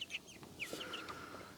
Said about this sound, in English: Well, they are chickens.